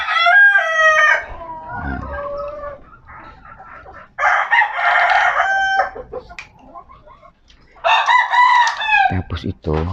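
Roosters crow loudly and close in repeated calls while chickens cluck in between, backyard farm poultry with brief quiet gaps and no clear talk.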